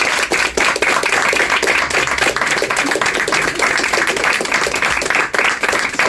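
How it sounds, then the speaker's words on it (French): A theatre audience at a hypnosis show claps loudly and continuously, a dense wall of applause with clearer individual claps near the front, sustained for several seconds. "Applaudissez très fortement."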